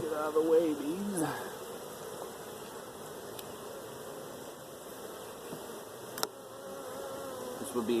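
Honeybees buzzing around small nuc hives outdoors, a continuous close drone with individual bees swooping past, one pitch sweep early on, and a brief click near the end.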